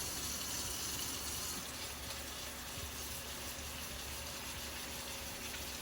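Water running steadily from a tap at a sink during handwashing, a continuous close hissing splash with no talk.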